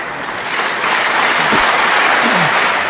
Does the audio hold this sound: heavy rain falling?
no